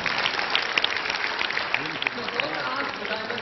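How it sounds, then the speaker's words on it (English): Applause from a conference audience at an e-commerce business event, a steady crowd clapping with a voice speaking faintly over it. "can we give you a round of applause?"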